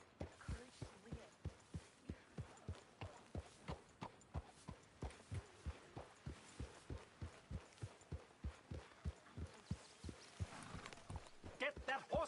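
Steady rhythmic clip-clop of horse hooves at a walking pace in the video game Red Dead Redemption 2, close and continuous, with voices talking faintly underneath.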